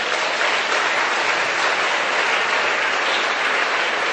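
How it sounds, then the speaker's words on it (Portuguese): A church congregation applauding, a thick, even wash of many hands clapping together that holds constant and fairly loud throughout, with no voices standing out. "Uma salva de palmas para eles, porque eles merecem."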